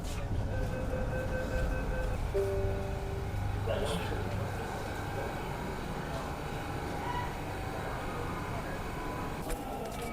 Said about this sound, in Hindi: This train terminates here. Doors will open on the left.